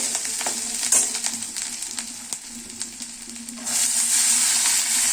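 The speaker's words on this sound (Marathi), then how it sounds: "ते छान परतून झालं की त्यात थोडं तिखट हळद हे टाकून मटार टाकते आहे" Green peas fry in a pan with chili powder and turmeric, giving a steady close sizzle with light stirring scrapes that swells louder toward the end.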